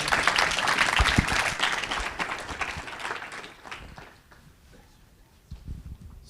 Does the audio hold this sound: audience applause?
yes